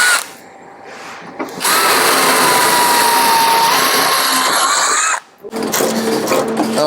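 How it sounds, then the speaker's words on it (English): Power drill boring out seized rivets on a Land Rover hinge, a loud sustained whine running several seconds after a short quieter start, then cutting out briefly before grinding on again. "all these rivets have got to be drilled out"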